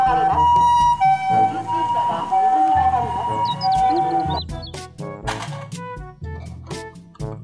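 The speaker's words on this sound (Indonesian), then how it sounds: "Mobil ambulans." A wailing toy ambulance siren rises and falls steadily for several seconds, loud and close, then gives way to a busier stretch of clattering, music-like sound.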